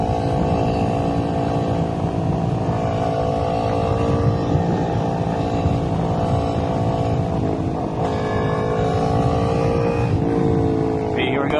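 A motorcycle in third gear on twisty roads drones steadily and loudly throughout, with the engine note shifting slightly as the throttle changes, under constant wind rush.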